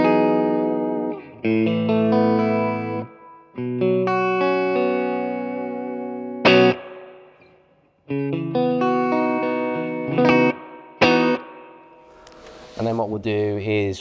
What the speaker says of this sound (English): crank that reverb up to halfway. It's going to get quite excessive